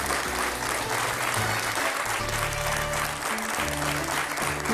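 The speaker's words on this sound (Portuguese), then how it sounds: "Um grande aplauso." A studio audience on a Portuguese afternoon TV talk show breaks into sustained, dense applause: an even wash of many hands clapping that holds steady throughout, close and loud.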